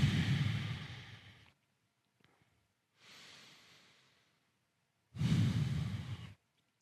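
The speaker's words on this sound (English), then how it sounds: "We're going to slow down the breathing." Slow, deep breaths during a gentle yoga stretch for the lower back and outer hips: a long, loud exhale, a pause, a softer breath, another pause, then a strong, close exhale.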